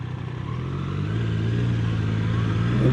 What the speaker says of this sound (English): you can be wide open throttle and shift your gears without even touching the clutch